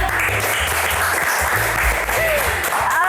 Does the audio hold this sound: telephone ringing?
no